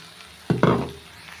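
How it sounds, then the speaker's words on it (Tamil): Boiled plantain with garlic is stirred in a frying pan. Two quick scraping clatters of the utensil against the pan sit over a faint background hiss. "வாழைக்காய் வந்து பாருங்கள் நல்லா மிக்ஸ் பண்ணி விட்டேங்க"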